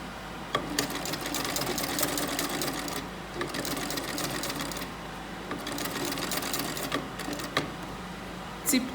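A sewing machine runs steadily up close while stitching a flare skirt, its continuous mechanical whir broken by a few small clicks and brief pauses, with no talking.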